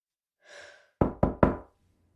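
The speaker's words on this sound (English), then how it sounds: "That night, Martin knocked on the guest's room door." Three sharp knocks on a bedroom door of a guest room at night, evenly spaced and close, following a soft breathy sound.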